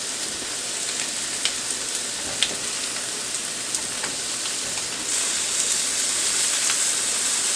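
Cajun shrimps sizzling on a grill as they are turned, a loud, continuous hiss and crackle with occasional sharp pops, rising slightly near the end, with no talk.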